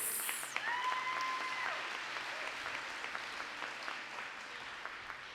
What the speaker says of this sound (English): Let's give a round of applause again for Keon Lewis.